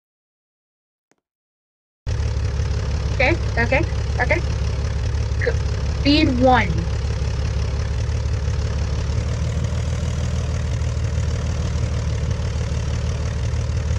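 Airplane engines in a multiplayer flying game kick in after two seconds of silence and settle into a steady, loud, low droning idle that runs to the end, with brief player voices over it early on.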